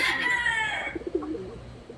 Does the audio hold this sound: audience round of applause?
no